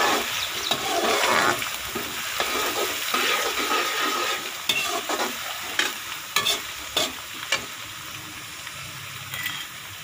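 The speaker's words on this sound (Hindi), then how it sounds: "अब इसमें लहसुन और अदरक का पेस्ट डाल देंगे और इसके साथ ही सब्ज़ मिर्च का पेस्ट।" Garlic, ginger and green chilli paste fry in hot oil with a bright, crackling sizzle, while a spoon scrapes and stirs through it in irregular bursts, close by and with no talking.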